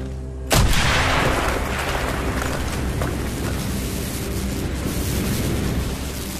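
An explosive charge blows a hole through a wall in Call of Duty: Black Ops, on the Executive Order mission. One sudden, loud blast is followed by a long rumbling decay of debris and low roar, with no voices.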